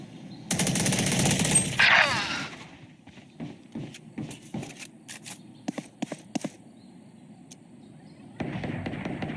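Bursts of automatic gunfire from the shooter game Valorant, a dense volley up front followed by scattered sharp single shots and short rattles, with no talking.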